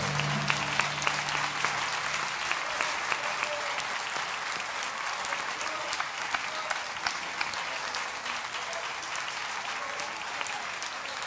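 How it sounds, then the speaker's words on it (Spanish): Sustained applause from a congregation during a Sunday morning church service, a dense, steady wash of many hands clapping for over ten seconds, somewhat distant, with a brief voice at the start and a few sharper claps poking through. "gran aplauso al Señor"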